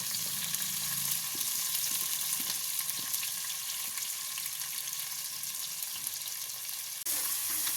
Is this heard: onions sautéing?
yes